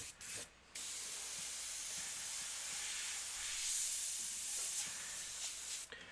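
An airbrush sprays paint for custom painting work, giving a steady broadband hiss that runs almost unbroken, with short breaks near the start and again just before the end.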